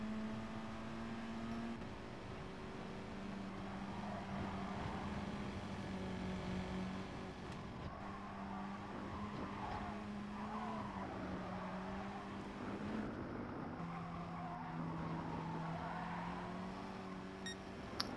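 Volkswagen Scirocco racing in Gran Turismo Sport, a steady engine drone with shifting pitch as it works through corners, continuous and fairly loud throughout.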